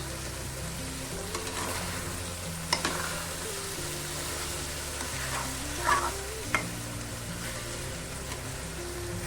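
Colocasia stolons cooked with prawns, drying out in a hot pan with continuous sizzling and frying, broken by a few sharp scrapes and clatters of stirring, close up with no talk.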